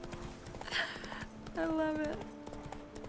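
Roach the horse galloping in The Witcher 3, a quick rhythmic clip-clop of hooves under someone talking, with a short neigh-like cry partway through.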